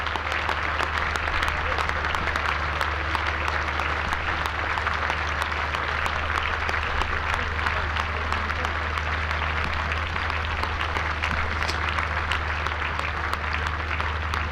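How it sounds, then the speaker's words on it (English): Sustained standing ovation at the Hove cricket ground as a cricketer returns to the pavilion during a County Championship match, dense steady clapping from the crowd and players continuing at an even level throughout. "standing ovation around Hove, the players standing in the pavilion applauding"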